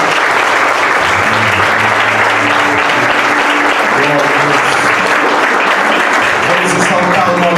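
Loud, sustained applause from a large church congregation fills the whole stretch, with music and a preacher's voice faintly underneath.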